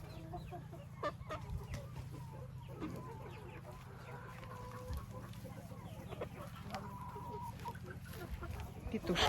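Young roosters and laying hens cluck and murmur in a coop, with scattered short calls over a low rumble and a quiet voice now and then.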